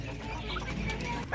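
Native chickens cluck while pecking at fresh feed, with short, close clucks scattered over a low farmyard murmur and a louder burst at the end.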